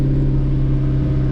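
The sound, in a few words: McLaren MP4-12C engine revving with throttle applied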